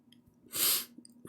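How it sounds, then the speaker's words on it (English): A single close, sharp sneeze bursting out after a quick breath, brief and loud against near silence. "Oh, I'm about to sneeze."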